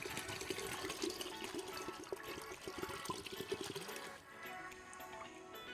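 Three cups of Southern whiskey pour steadily into a lemonade punch base for a backyard barbecue cocktail, a continuous close splashing gush that eases slightly near the end.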